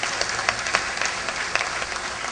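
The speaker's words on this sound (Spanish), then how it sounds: "Fuertes aplausos también." Steady crowd applause at a university gathering in Peru, dense and sustained clapping at moderate level throughout with no pauses.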